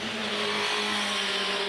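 A race car engine drones loudly and steadily at the Nürburgring track, a sustained high-revving tone with no voices.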